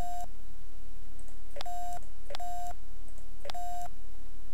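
Telephone dialing tones in The X-Files video game: a short beep, then three evenly spaced electronic tone bursts about a second apart, clear and alone over a low steady hum.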